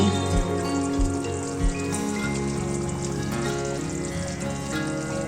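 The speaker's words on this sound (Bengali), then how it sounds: "তরকারিটা আমাদের ফুটে এসেছে" Mustard-paste curry of parshe fish with slit green chillies and chopped coriander bubbling in a pan: a steady, close simmering hiss with a few low thuds near the start.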